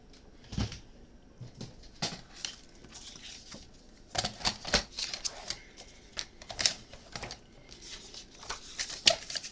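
Scissors snip through paper being cut to size for a small bag-style scrapbook album, a series of sharp crisp cuts and rustles at close range, irregular and alone.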